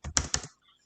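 Two or three quick, close computer keyboard keystrokes while typing an equation in Microsoft Word, crisp and clicky, then silence.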